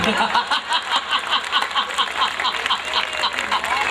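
Rhythmic clapping from an audience at a Hindi comedy event, the Mahamoorkh Sammelan, steady and fairly loud, with laughter and chatter mixed in.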